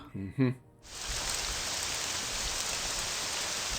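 After a brief voice at the start, steady rain in the video game Morrowind takes over as an even, continuous hiss of drops falling on surfaces.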